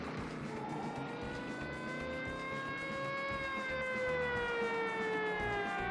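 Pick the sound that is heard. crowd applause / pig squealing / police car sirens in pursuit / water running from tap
police car sirens in pursuit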